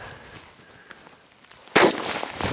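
A gun fires a bullet onto ice with a single loud, sharp crack after a quiet stretch, followed by a bright, ringing tail that lingers to the end.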